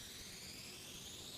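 Radio telescope space noise from the Lovell telescope converted to sound: a steady, featureless broadband hiss of fairly empty static, even and unbroken throughout with no other sounds.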